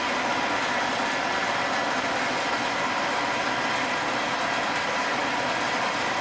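A crafting press plunging into material at around 400 RPM, giving a steady, loud, unbroken mechanical whirring roar.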